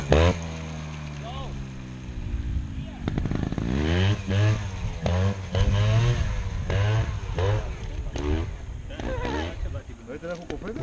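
A trials motorcycle engine is blipped in short, evenly timed throttle bursts during beginner trials riding, each rev rising and falling in a steady rhythm beneath someone talking over it.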